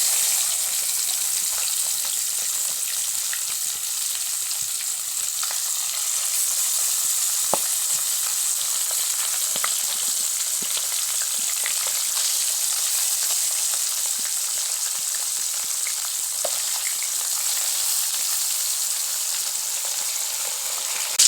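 Tilapia fish pieces frying in hot oil in a pan, a continuous even sizzle and crackle with occasional small pops, steady and close throughout with no talking.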